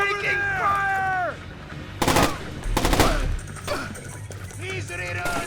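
Gunfire in the Splinter Cell Chaos Theory video game: two or three sharp bursts of shots ring out amid tense shouting voices and game music, loud and close.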